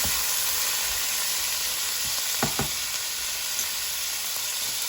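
Food cooking in its own juices on a hibachi grill at home, a steady close sizzle and frying hiss with a couple of brief scraping stirs partway through and no talking.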